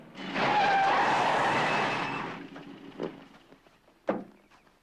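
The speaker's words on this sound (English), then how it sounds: "Stop the car!" A car brakes hard and skids to a stop, a loud sustained tire screech lasting about two seconds, followed by two sharp thuds as it settles, close and alone with no voices.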